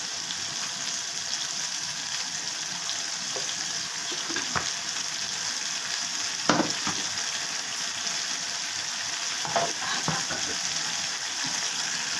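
Pointed gourd sizzles in a pan with black mustard, green chilli, salt and turmeric paste, a steady soft frying hiss with occasional stirring clicks and scrapes.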